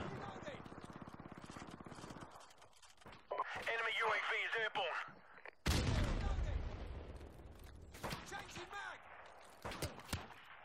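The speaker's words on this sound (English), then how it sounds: "Yeah, there are a lot of snipers out." Sniper rifle shots and explosions crack through a Call of Duty 4 Modern Warfare Remastered multiplayer match, loud sharp bursts scattered among radio chatter and players talking.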